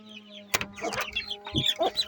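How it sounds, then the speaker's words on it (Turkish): Chickens cluck in short, close bursts, with a thump and some shuffling among them. "dışarıda tavuklar var"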